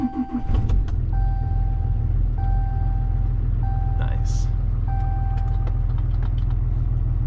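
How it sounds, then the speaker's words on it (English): A 6.7 Cummins diesel with a new intake horn fitted runs with a deep, steady low rumble after starting, while a repeating electronic chime beeps overhead and someone briefly speaks. "we are about to crank it up and see if there's any difference, if there's any leaks"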